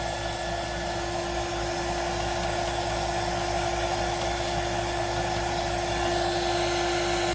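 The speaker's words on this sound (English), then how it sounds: "then we're going to just dry this with the hot gun" A heat gun blows hot air to dry a handmade craft piece, producing a continuous, loud, even whirring hiss that holds steady for several seconds.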